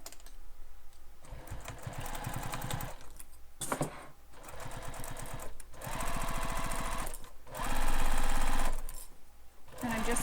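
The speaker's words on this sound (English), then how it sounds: "I'm just stitching all the way across the bottom" A sewing machine runs in several long bursts, stitching straight across the bottom of a crossbody bag, with short pauses between runs and the motor whine rising in the final stretch.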